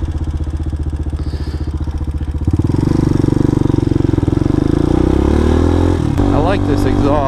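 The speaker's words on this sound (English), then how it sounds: "I like this exhaust, but I kind of miss it being quiet." A motorcycle with an unmuffled exhaust revs loud and close, a fast chugging idle swelling into sustained throttle with a rising rev near the end; no talk over it.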